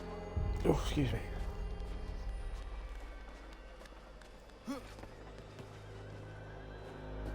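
A horse neighs loudly near the start in Assassin's Creed III, a high whinny over a busy game soundscape, followed by a softer snort or whinny a few seconds later.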